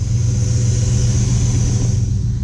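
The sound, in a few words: 1965 Buick Skylark engine rumbling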